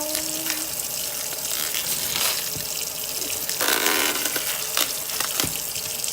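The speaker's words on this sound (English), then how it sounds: "So I'm gonna turn my water on." A kitchen tap runs steadily with a broad, rushing hiss of water, close and continuous, with small knocks and clinks in between.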